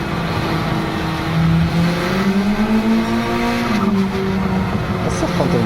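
Honda Civic Type R FK2 with front-wheel drive accelerating hard, engine note climbing and sweeping steadily in pitch, loud and close, with a person talking over the engine throughout.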